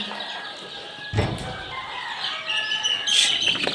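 Black Australorp and Sonali chicks, about 550 to 600 of them, cheep at a desi chicken farm in a continuous scattered chorus, with occasional louder clucks and wing flutters, fairly faint and nearby.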